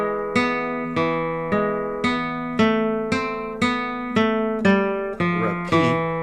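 A guitar plays the third and fourth melody phrases of Malagueña as a slow line of single plucked notes, about one per second, each ringing clearly and fading before the next, with no talking.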